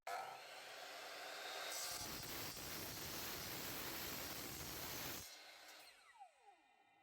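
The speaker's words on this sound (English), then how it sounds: "here we're going to just gently come down with the saw" A saw cuts slowly through an aluminium capping rail, a sustained harsh grinding hiss lasting a few seconds before stopping, followed by a faint winding-down whine; the sound is fairly quiet overall, with no talk over it.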